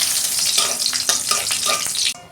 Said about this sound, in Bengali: ফোড়নটা 2 মিনিট একটু ভেজে নেব